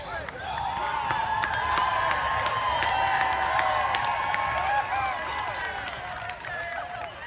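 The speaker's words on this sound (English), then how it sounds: "In response, the crowd, almost all white, cheers." A crowd at a campus protest cheers and shouts in a sustained, moderately distant roar, with a narrator speaking over it.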